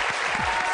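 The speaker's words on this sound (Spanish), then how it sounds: "¡Fuerte aplauso!" Audience applause in a live studio show, a brief burst of dense clapping from many people, loud and close, with faint voices mixed in.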